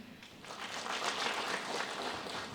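An audience at a county governor's meeting with revenue officials and motorcycle-taxi leaders claps together in a steady, moderately loud round of applause with no talk over it.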